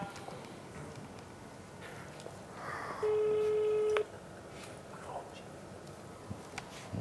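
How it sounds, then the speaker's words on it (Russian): A telephone call tone heard through a handset, a steady electronic beep lasting about a second amid a quiet, noisy room, with faint voices and small background sounds around it. "Я звоню."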